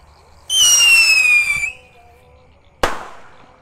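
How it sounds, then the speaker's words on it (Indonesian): A Pirotor rocket firework launches at a Ramadan night fireworks session, letting out a loud, close, slightly falling whistle for about a second, then after a pause a single sharp bang. "di sini ada Rocket Pirotor. Kita nyalakan. Sudah menyala."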